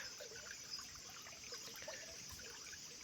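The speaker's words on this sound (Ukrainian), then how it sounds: "А тут маємо такий наш струмок, потічок." A small stream trickles through a pasture on a farm where horses and bullocks drink, giving a soft, continuous burble and gurgle that is faint and steady, with no voices.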